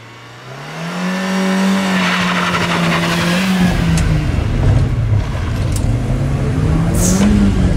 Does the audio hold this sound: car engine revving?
yes